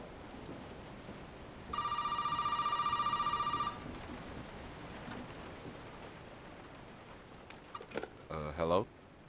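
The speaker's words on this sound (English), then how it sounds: "Now the phone's ringing." An old telephone rings in Resident Evil 7, one sustained electronic bell burst of about two seconds over rain and low ambience, followed by a brief grating rattle near the end.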